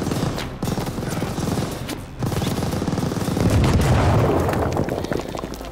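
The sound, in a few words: machine gun fire in video game Call of Duty Vanguard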